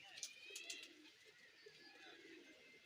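Shahjahanpuri pigeons cooing softly in a loft, with faint low coos scattered through the clip alongside some brighter chirpy bird sounds in the background.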